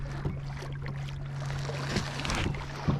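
Small electric motor pushing an Advanced Angler 120 kayak forward on the Rio Grande, a steady low hum under wind and water noise with a few splashes.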